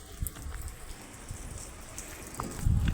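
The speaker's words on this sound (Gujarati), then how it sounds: "તો વરસાદ પણ ચાલુ થઈ ગયો" Steady rain falls during a monsoon outing, a soft, even patter with a few scattered drops close by and a rustle near the end.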